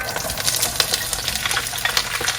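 Diced squash and zucchini sizzle in hot oil for garden minestrone, a busy crackling fry with frequent sharp pops and stirring scrapes, close and steady, with no voices.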